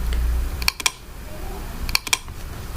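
Typing on a computer keyboard: two short clusters of crisp key clicks separated by a pause, close and moderately loud over low background hum.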